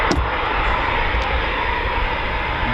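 A Eurofighter Typhoon FGR4 flying at night at RAF Coningsby gives a continuous, loud jet roar that holds steady throughout, with a couple of brief clicks early on.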